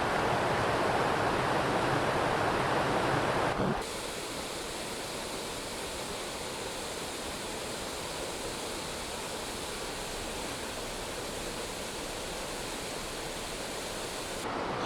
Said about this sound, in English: the waterfall sort of in the background